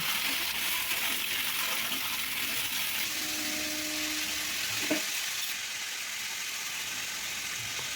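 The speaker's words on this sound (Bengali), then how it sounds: "পেঁপে আলুগুলো ভেজে নিলে তরকারির টেস্টটা আরও খুব ভালো হবে তার জন্য আমি এটাকে একটু লাল লাল করে ভেজে নেব" Chunks of papaya and potato fry in hot oil for a vegetable curry, browning toward a reddish colour. A dense, continuous sizzle hisses close and steady, with a couple of faint clinks partway through.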